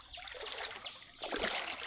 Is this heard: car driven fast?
no